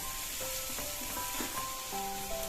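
Onions and curry leaves sauté in a pan with a continuous close sizzle and soft scraping strokes of a utensil, no voices.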